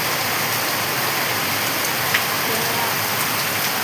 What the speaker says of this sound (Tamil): 7 மணிக்கே ஆரம்பிச்ச மழை விடவே மாட்டேங்குது